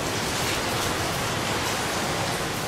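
Rain falling near a beach on Ko Lipe, Thailand, a dense, steady hiss of downpour filling the whole stretch without pause, even and fairly close, with no voices.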